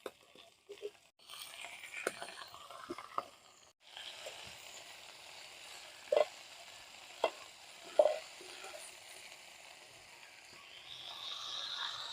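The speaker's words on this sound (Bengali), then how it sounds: "এবার কেটে ধুয়ে রাখা পালং শাক কড়াইতে দিয়ে দেবো" Chopped, washed spinach added to a hot wok of lightly fried onions gives a soft, steady sizzle with a few scraping stirs, the hiss swelling gradually, faint and close.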